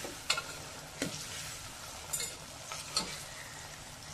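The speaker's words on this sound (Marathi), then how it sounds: "कांदा टोमॅटो छानपैकी" Onion and tomato fry quietly in oil, a faint soft sizzle under a handful of sharp, spaced taps and scrapes from a stirring utensil.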